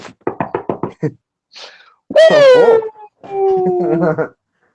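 Knocking at a door, a quick run of six sharp raps close by, followed by a rising, wailing whine that sounds like a dog or cat at the door.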